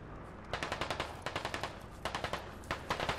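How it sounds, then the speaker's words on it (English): Incoming automatic gunfire in the tactical shooter Squad, rapid bursts of shots in several quick strings separated by short pauses, sharp and fairly close, with no talking. "More fire coming in."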